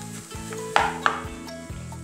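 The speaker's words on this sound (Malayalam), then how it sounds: "ഇതെല്ലാം കൂടി നല്ലപോലെ മിക്സ് ചെയ്ത് എടുക്കണം" Ingredients mixed with coriander leaves in a frying pan sizzle steadily while a utensil stirs, giving two sharp scraping clicks against the pan over soft background music.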